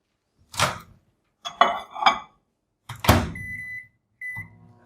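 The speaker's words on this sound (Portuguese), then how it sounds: "Então vou colocar lá no micro-ondas." A kitchen microwave oven used to melt white chocolate gives off a series of short clunks and clatters as the door and dish are handled, then sounds a few high electronic beeps.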